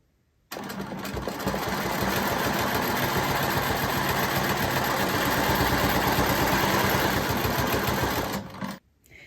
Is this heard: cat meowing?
no